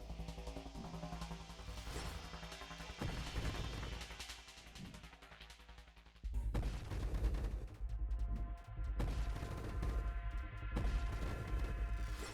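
A ship in the video game Nova Drift fires its weapons in dense rapid bursts and crashing blasts, growing heavier halfway through over a steady musical backing, with no speech.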